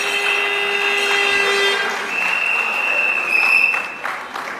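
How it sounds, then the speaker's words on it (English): Applause and horns from a crowd at a UNC political rally for the Flaming Word Ministry, with sustained blaring horn tones over scattered clapping and cheering, loud and close. "another round of applause for the Flaming Word Ministry"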